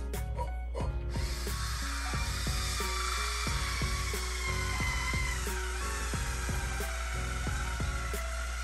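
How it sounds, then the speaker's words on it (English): An electric wine bottle opener pulling the cork from a bottle of Argentine Cabernet Sauvignon, a steady motor whine with ratcheting clicks and shifting pitch, close and continuous. "using my electric powerful opener, so we need the extra grip"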